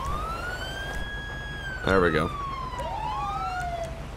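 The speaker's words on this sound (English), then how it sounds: "Activating every siren I have in the car." A police car siren in a video game wails, sweeping up and down in pitch, steady and fairly loud, with a brief burst of speech partway through.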